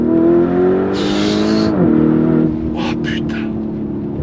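An 800 hp Lamborghini Urus pulls hard, its engine droning loud and close with the pitch climbing and then shifting, while someone shouts an exclamation over it.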